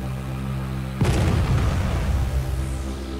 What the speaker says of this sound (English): we'll show an artillery strike in action